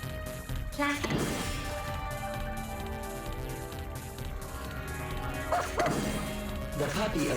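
A puppy in the video game Nightmare at Green Lake barks and yips a few times, short sharp barks near the start and again near the end over a steady game soundtrack.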